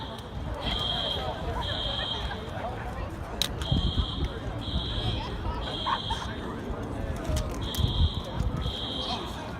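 College dormitory fire alarm sounding in repeated steady electronic beeps at a regular rhythm, moderately distant, with outdoor crowd murmur and footsteps around it.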